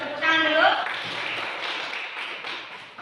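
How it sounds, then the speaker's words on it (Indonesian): Students in a classroom clap their hands together, a burst of clapping that follows a brief voice, then continues as a steady patter before fading out. "Terus tepuk tangan dulu."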